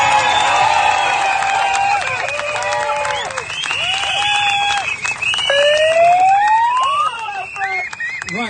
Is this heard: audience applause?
yes